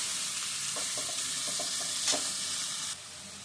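Potatoes, carrots and green chillies with bay leaves frying in oil, a steady close hissing sizzle with soft stirring clicks through the middle, easing slightly near the end, no voices.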